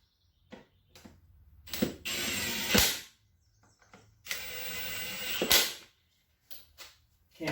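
A power ratchet driving wheel bearing bolts on a Polaris Sportsman ATV, in two sustained whirring runs each closing with a sharp snap, set between scattered clicks and small clanks, fairly close.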